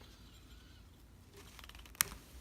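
A thread is snipped on a New Tech GC-562-01CA flatbed coverstitch machine: one sharp, close click of scissors after a quiet stretch of faint handling, with no talk.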